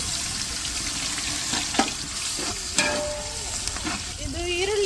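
Onions frying in hot oil in a pot with ginger garlic paste, for a green biryani, a steady close sizzle with a few sharp clinks and stirring scrapes throughout.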